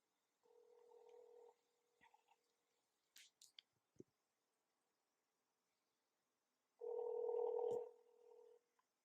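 A telephone call back, heard as a quiet steady tone, a few faint clicks and beeps, then a louder ringback tone partway through, with near silence between.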